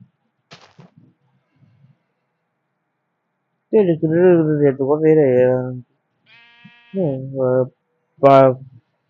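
Video-game goat bleating: two quiet stretches broken by loud, wavering, nasal bleats, a long quavering one followed by shorter calls, with a brief electronic tone between them and faint clicks at the start.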